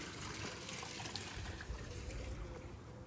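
Steady rushing flow of irrigation water through a field channel watering wheat, a continuous trickling, gurgling wash that stays even throughout without pauses.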